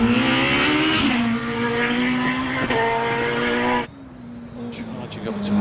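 A hillclimb race car, an OMS 28 with a 2.7 litre RPE V8, screams loudly at the Harewood hillclimb in a sustained high-revving drone with a brief shift, then drops away and builds again near the end.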